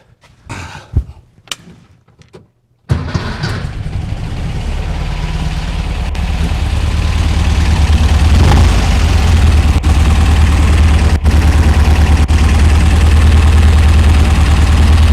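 A 1964 VW Beetle engine with a dual EMPI carburetor kit. A few clunks are followed by the engine catching, then it settles into a loud, steady, low rumbling idle that carries on to the end.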